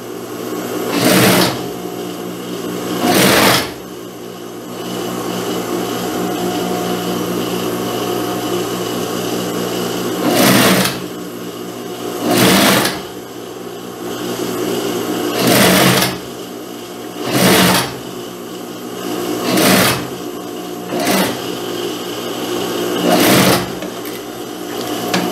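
A sewing machine stitching lastex elastic onto a blouse front to gather it, running in short bursts separated by pauses over a steady low hum, close and loud, no talk.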